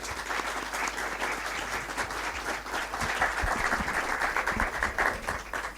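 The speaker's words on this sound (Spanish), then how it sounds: "pedir un aplauso para nuestro conferenciante" Sustained applause from an audience for a lecturer at a diplomacy forum, a dense, even patter of many hands clapping throughout, moderately loud and unbroken.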